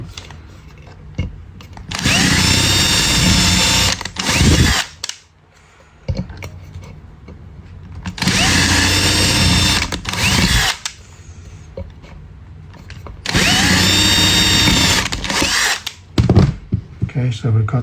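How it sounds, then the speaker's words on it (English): A power drill bores a small hole for a DIY lantern with a glass cover and coke can, its loud whine running in three long bursts separated by brief pauses and handling noises. "Okay, so to drill a second hole."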